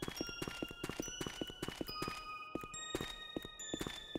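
Footsteps in the horror video game The Happyhills Homicide: a steady run of evenly spaced, fairly crisp steps over a sustained tonal ambient backdrop, with no talking.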